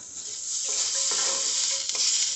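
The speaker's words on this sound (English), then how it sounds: "my salsa is doing good. I gotta give it a little stir" Garden-roasted salsa is stirred in a hot pan, spoon strokes scraping through a steady close sizzle with a couple of sharper clinks; no one speaks.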